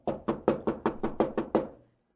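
Nine heavy knocks pound on a pawnbroker's shop door in quick, even succession, close and loud, staged as a radio drama sound effect, then silence.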